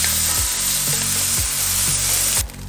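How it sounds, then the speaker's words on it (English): Six diced strips of bacon sizzle and fry steadily in a skillet, a loud continuous crackle with soft rhythmic stirring scrapes roughly every half second. "I diced up 6 strips of bacon and we're gonna render it out in the skillet."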